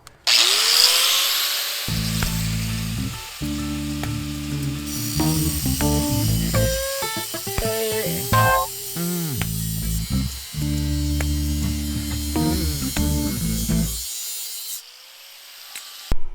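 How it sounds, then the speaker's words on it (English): An angle grinder cuts through tough metal fittings while freeing up a canoe, a sustained loud whine with pitch swings and brief dips as the disc bites in and eases off, running with no talk. "this stuff's a little tough, so I'm going to use a grinder."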